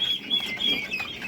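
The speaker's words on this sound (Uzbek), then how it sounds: "ko'rka jo'jalarimiz teppa qo'ysin." Twenty-day-old Bronze 708 turkey chicks peep in thin, high, repeated calls, quiet and continuous in the background.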